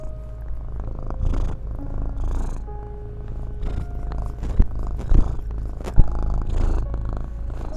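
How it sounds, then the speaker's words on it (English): A black and white cat purrs close to the microphone in a steady rhythmic rumble, broken by a few sharp handling knocks and rustles. "this video is dedicated to our little black and white cat, one of our best friends, Hank"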